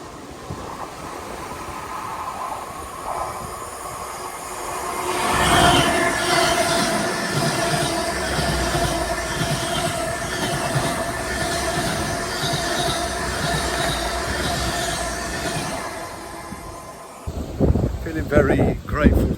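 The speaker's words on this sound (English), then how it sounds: "There's a train going by." A train runs past on Brunel's railway in Devon, a broad rumble with rail and wheel noise swelling from about five seconds, holding steady and cutting off near the end as a voice briefly speaks.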